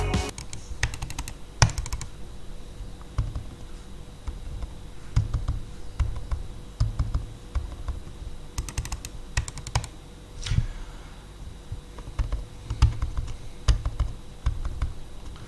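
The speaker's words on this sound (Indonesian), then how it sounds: "perbandingan antara suara Logitech Pop Mouse ini dengan mouse yang bisa dibilang suaranya cukup normal" Runs of crisp mouse clicks in quick bursts separated by short pauses, a quiet Logitech Pop Mouse compared with a normal ROG mouse, some sets noticeably softer and others sharper and louder.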